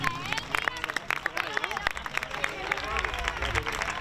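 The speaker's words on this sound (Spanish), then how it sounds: "Fuerte aplauso para él, por favor." An audience at an end-of-season youth sports trophy ceremony breaks into applause, a steady dense stream of hand claps with crowd murmur and voices mixed in throughout.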